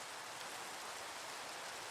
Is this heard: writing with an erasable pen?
no